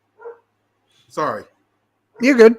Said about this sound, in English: Yeah, we got a neighbor dog barking.